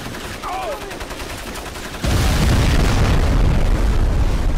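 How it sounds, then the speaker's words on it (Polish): Explosions and gunfire from a battle in the video game Crysis Warhead, a dense rumbling barrage that turns sharply louder and more continuous halfway through, with no speech over it. "No i nie ma to jak wybuchy."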